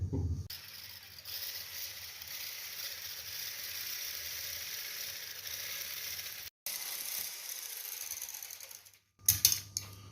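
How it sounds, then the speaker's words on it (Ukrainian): An electric mixer whirs steadily at high speed, beating egg whites with a pinch of salt for pancake batter, cutting out briefly, then restarting with a rattle near the end; no talk. "Добавляю сюди щепотку солі до білків і збиваємо білки"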